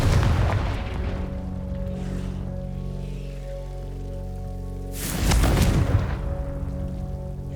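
A Confringo spell explosion in a Hogwarts video game gives a loud booming blast at the opening and a second heavy burst near the end, with a low rumbling game ambience between them.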